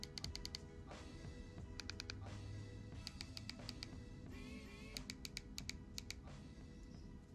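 Keys clack on a W-AIR BASIC phone keypad in quick, quiet bursts of three or four presses separated by short pauses, close and soft, with no talking.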